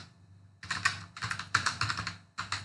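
Short bursts of clicky keystrokes on a computer keyboard as a Git command is typed in a terminal, three clusters of rapid taps with brief pauses, close and fairly quiet.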